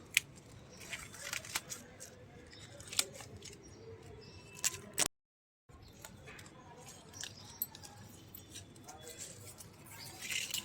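Sharp little snips and clicks of cutting leafy greens during harvest in a rooftop garden, close by, scattered through a soft outdoor background with a brief silent gap midway.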